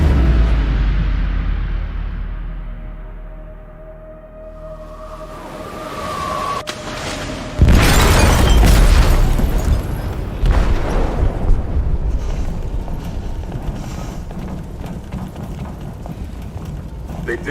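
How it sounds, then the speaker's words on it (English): A large explosive blast goes off inside a ship's hold in a dramatic game scene, a sudden loud boom followed by a long roaring rumble and debris noise, with voices speaking over it. "They detonated an explosive in the hold."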